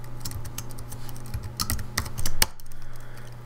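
A computer keyboard clatters with rapid, uneven keystrokes as code is typed for a Raspberry Pi socket program, close and steady over a low background hum, with a brief louder burst of keys near the end.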